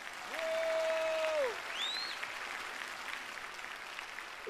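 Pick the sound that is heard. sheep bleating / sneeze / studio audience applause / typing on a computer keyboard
studio audience applause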